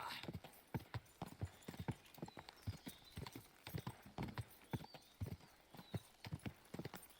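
Galloping horse hooves in the video game Kingdom Come: Deliverance 2 pound out a quick, rhythmic clip-clop, fairly soft and continuous with occasional faint whinny-like tones.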